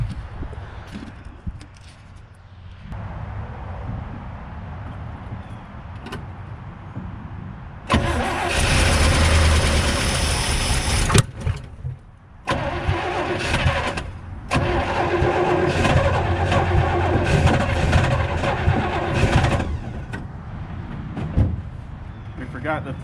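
A 1979 International Scout II, sitting for over 20 years, is cranked with its carburetor freshly reconnected and a gas can feeding fuel; the engine turns over, catches and roars loudly, running unevenly and revving, close by, with voices talking around it.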